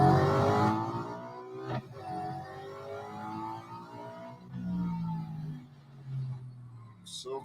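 A race car in the Real Racing 3 mobile game revs and accelerates, engine pitch rising and falling through gear changes at moderate volume while someone talks over it.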